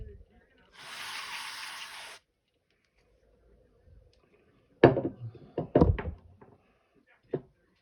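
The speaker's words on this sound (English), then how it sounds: "Now we're going to spray it down." One steady spray hiss lasting about a second and a half on a new nitro engine's parts, then quiet, followed by a few knocks and handling clunks.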